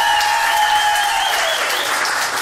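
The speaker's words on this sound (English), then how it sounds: "Let's have another round of applause" Audience applause after a band's set at a live club concert, a dense steady clapping close and loud throughout, with bright tonal feedback or sustained notes ringing underneath.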